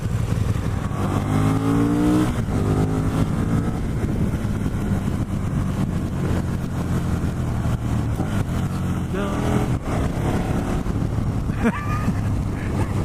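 A 2017 KTM 1290 Super Duke GT motorcycle pulls hard through its gears with a quick upshifter, its engine note climbing in repeated rising sweeps. The roar is loud and continuous, heard close over strong wind rush.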